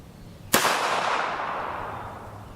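A single sharp gunshot cracks once over a chronograph at a shooting range, firing subsonic-type ammunition, loud and close, followed by a long fading echo.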